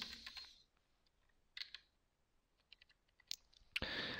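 Keys tapped on a computer keyboard while code is typed, a few scattered light clicks in short bursts, quiet and close, with long gaps between them.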